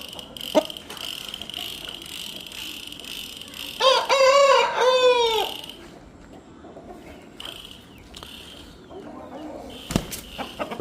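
Parrot beak chickens in a flock, with a loud, near rooster crowing once in the middle and occasional softer clucks and rustling around it, with no talking.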